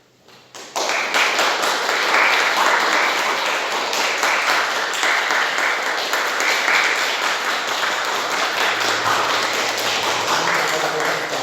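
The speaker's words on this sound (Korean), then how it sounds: "제가 선물을 드릴 때 함께 박수를 크게 환영해 주시면 감사하겠습니다" A church congregation at a Sunday service breaks into loud, sustained applause of welcome, starting abruptly after a quiet instant and continuing evenly as a dense wash of many clapping hands.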